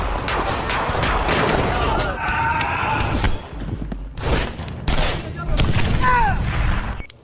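Gunfire from a film shootout, with scattered bursts and sharp reports mixed with loud clatter and a horse's whinny, dense and busy throughout.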